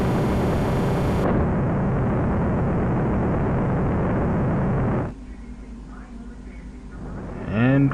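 Jet engine roar from a fighter taking off in the SNES game Super Strike Eagle, a loud, steady synthesized rumble that drops abruptly partway through, followed by quieter game tones and a rising electronic sweep.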